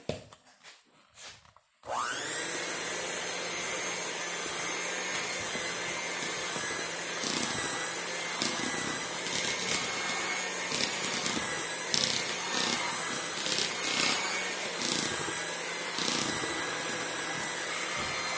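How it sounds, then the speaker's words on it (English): A hand mixer on its lowest speed beats buttercream icing with a loud, steady whir that starts suddenly after a few soft knocks. Light scraping and clacks of the beaters sound against the bowl throughout. "And I'm mixing on 1, because I don't want to overwork my hand mixer."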